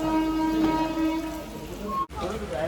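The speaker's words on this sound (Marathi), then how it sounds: "आता येईल ट्रेन दाखवतो तुम्हाला" A train pulls into a station in the Konkan region, its horn sounding in a sustained tone over rumbling rail noise, with voices nearby.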